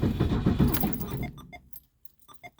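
A key jingles and scrapes in the ignition of a classic Ford in bitter cold, a close clatter of keys followed by a few small metallic clicks.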